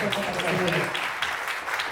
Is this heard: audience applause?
yes